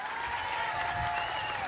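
Applause from a crowd gathered at a Louisville vigil against gun violence, a steady, dense wash of clapping held at moderate distance for a brief stretch, with a faint tonal hum running underneath.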